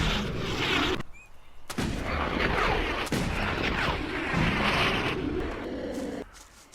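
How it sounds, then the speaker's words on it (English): Jetpacks roaring in the video game Elex 2, a steady loud thrust rushing with brief dips and cutoffs, two packs flying together without talk. "All I hear is his jetpack and my jetpack."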